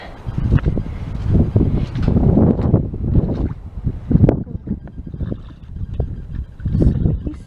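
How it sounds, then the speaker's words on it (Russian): Strong spring wind gusting outdoors over a thawing garden in a low-lying spot, a loud, continuous rushing roar with repeated buffeting swells against the microphone, heard alone without talk. "А сегодня ветер только такой шумит сильный."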